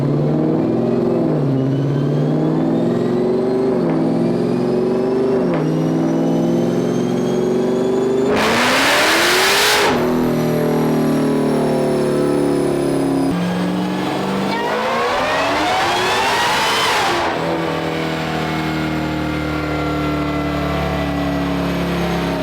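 Supercharged 1300 HP car with a Whipple blower, revving hard on a power pull: loud, close engine sweeps climbing in pitch through the gears, with two full-throttle roaring surges and long droning stretches, no talking.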